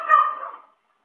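A single dog bark rings out nearby in a home, a short, bright burst that trails off within about half a second, followed by silence.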